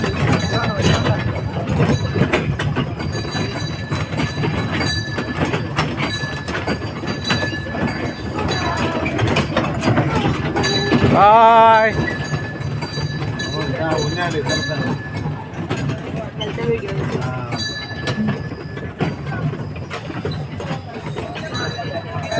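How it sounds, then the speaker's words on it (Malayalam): A small ride-on train at Mango Meadows agricultural theme park rolls along with a steady low rumble and light clinking, while people chat nearby and a brief whistle-like tone rises midway. "നമ്മൾ ട്രെയിനിൽ പോകണു"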